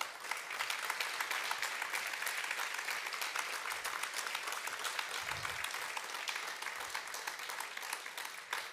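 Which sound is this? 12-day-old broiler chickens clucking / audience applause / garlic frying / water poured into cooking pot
audience applause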